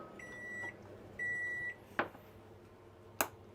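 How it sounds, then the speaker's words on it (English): Two long electronic beeps from a microwave oven, followed by two sharp clicks or taps, close by in a quiet room. "Pop that in the microwave. Start with like a minute."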